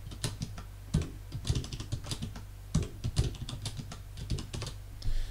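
Coordinates being entered on a computer keyboard, with quick irregular bursts of crisp key taps, close and fairly quiet, and no talking.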